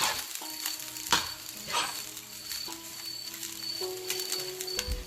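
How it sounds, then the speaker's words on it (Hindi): Cooked rice being stirred and tossed into an egg fried rice mixture in a hot pan, with a soft continuous sizzle, scraping strokes of a spatula and occasional metallic clinks, no talking. "उसमें मैं ऐड करूँगी राइस, डाल के इसे अच्छे से मिक्स कर लें।"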